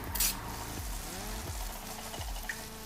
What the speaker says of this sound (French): je vais mélanger le substrat